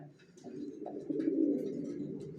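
Racer pigeons coo close by in soft, low, throaty phrases that swell and repeat over a quiet background.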